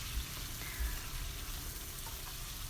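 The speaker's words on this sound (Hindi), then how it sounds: "चिकन को तब तक हमने फ्राई करना है जब तक इसका कलर चेंज नहीं हो जाता।" Chicken sizzles and fries in a pan for a turnip curry, a continuous soft, crackling sizzle at low volume with a few faint stirring clunks.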